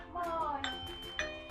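A doorbell chimes in a home, with two quick bright ding tones over steady background talk and a voice.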